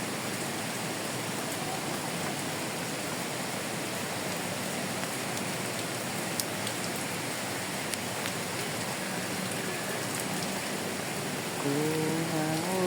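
Steady rain falls at a botanical garden, making an even, close hiss across the whole clip, with a faint voice near the end.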